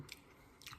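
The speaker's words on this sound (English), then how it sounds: "I like the crunch that the bean sprouts give it" Crunchy bean sprouts eaten with ramen give two short, crisp bites close to the mic, separated by a quiet pause, with no voices over them.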